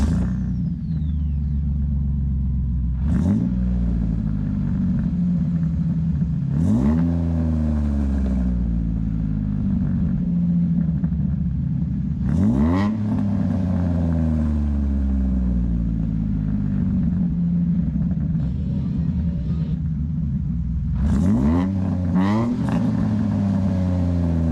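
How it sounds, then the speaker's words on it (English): 2007 Jeep Wrangler fitted with a Flowmaster Super 10 muffler, revved repeatedly up close: a deep rumbling idle broken by about five sharp throttle blips that climb and fall away, with occasional speech over it. "Actually, I'm gonna slide the super 10 up on there and just rev it up, see what it sounds like."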